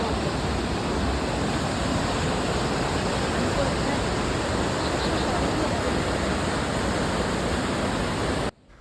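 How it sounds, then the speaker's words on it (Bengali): River water flows steadily through a river valley near a homestay, a dense, continuous rush with no breaks that cuts off abruptly just before the end. "আসার সাথে সাথেই এই জলের শব্দটা শোনার পর মনটা একদম ভরে গেল।"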